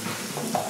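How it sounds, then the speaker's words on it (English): Small batch of food frying in a pan with a little oil, a soft continuous sizzle with faint scattered pops, close and moderately loud, no voices. "You can hear it start to pop, start to sizzle a little."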